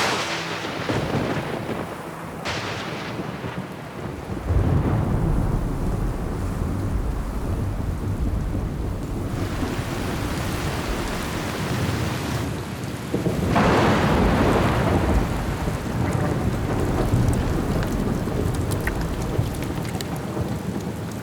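A heavy thunderstorm pours rain over South American floodlands. A constant loud downpour is broken by several deep rolling thunder rumbles that swell and fade across about twenty seconds.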